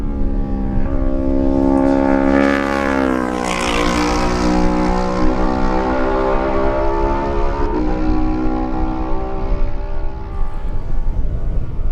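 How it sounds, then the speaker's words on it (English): Kawasaki race motorcycle, number 48, at a Manx Grand Prix lightweight race, its engine note rising as it approaches, loud and close with a strong harmonic whine shifting in pitch around the middle before settling into a steady drone. "Slight delay before the arrival of number 48, Paul O'Rourke, on a Kawasaki"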